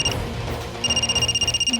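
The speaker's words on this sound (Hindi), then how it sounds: "ममता का फोन है क्या?" A telephone rings with a bright electronic trill, pulsing rapidly in repeated bursts over a low background hum.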